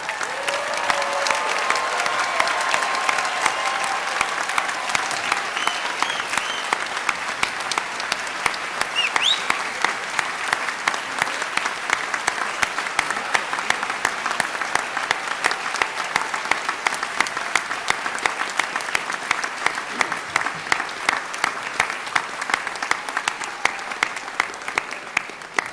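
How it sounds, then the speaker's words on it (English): A large graduation commencement audience applauds with a thunderous, sustained round of clapping, dense and steady throughout at close range, with faint crowd murmur beneath. "let us give you a thunderous round of applause"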